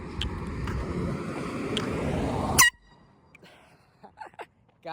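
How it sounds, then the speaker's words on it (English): Loud air horn blasting outdoors on a residential street, one long sustained honk that cuts off sharply, followed by quieter rustling and faint voices. "Wait, when you honk like to this person."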